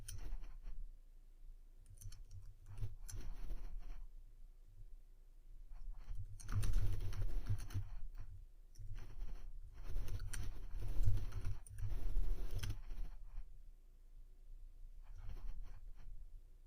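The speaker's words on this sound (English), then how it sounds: "so that was a lot of typing, and I chicken pecked" Slow, uneven hunt-and-peck typing on a computer keyboard, close, soft key clicks in scattered clusters with brief pauses, and no speech.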